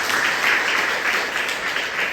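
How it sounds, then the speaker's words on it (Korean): Church congregation applauding to welcome a new accompanist, a broad steady wash of clapping that fills the room evenly throughout with no talk on top. "우리 박수로 안녕하겠습니다."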